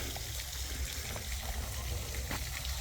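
Water pumped into a low fish pool during a drought, a steady broadband rush and trickle that holds evenly throughout at a moderate level, with a low hum beneath it.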